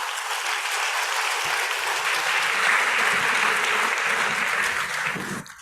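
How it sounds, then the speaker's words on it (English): Sustained applause from a conference audience after a health-policy panel segment, dense and steady for about five seconds before cutting off abruptly. "I'd like us all to give a special clap"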